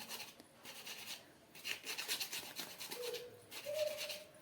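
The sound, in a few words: mixing cake batter with cardamom powder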